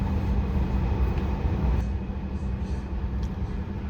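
A Cakrabuana executive-class train at Bumiayu station gives a low, continuous rumble with steady rolling noise, fairly close, easing slightly partway through.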